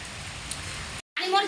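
Heavy rain pours down, making a steady broadband hiss for about a second before the sound cuts out briefly and a voice begins talking.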